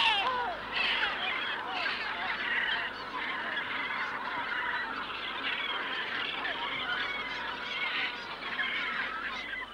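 Dominican gulls call in a noisy coastal colony near a penguin breeding ground, a dense overlapping chorus of harsh honking cries, moderately close and continuous throughout.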